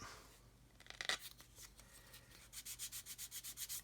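Sanding the back edge of a 1/144 plastic B-52H model kit part, with some scraping and rubbing, then a run of quick regular back-and-forth sanding strokes, close and quiet.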